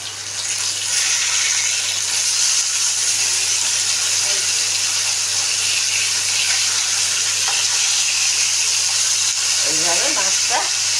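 Pomfret pieces sizzle in hot oil in a frying pan, a steady close hiss that holds without pause, with a voice briefly audible near the end.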